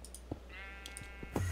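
A sheep in the Minecraft game gives a short wavering bleat partway through, set among soft clicks and a low steady hum, with louder thuds at the end.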